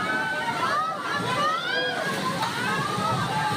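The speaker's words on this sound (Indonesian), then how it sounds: "sejumlah mobil hanyut terbawa arus banjir bandang di Kabupaten Sukabumi, Jawa Barat" Flash flood water from the overflowing Cikaso River surges through Sukabumi, West Java, sweeping cars away; a continuous rushing, sloshing roar with a tonal whine riding over it and faint voices in the background.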